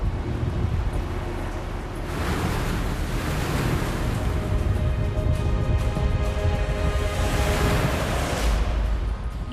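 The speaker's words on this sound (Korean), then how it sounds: "거친 바람과 파도로 인해서" Rough sea waves and strong wind buffet a fishing boat hauling nets for yellow croaker, a constant loud roar of surf and wind noise close to the mic with surging swells throughout.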